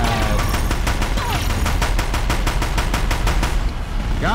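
Rapid automatic gunfire in the game Horizon Zero Dawn, a loud, steady burst of evenly spaced shots rattling on for several seconds before cutting off near the end.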